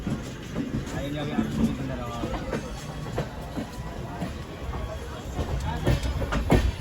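Vivek Express train pulling out of a rail yard, a continuous rumble with rhythmic wheel clacks and rattling carriages heard from on board, with someone talking over it.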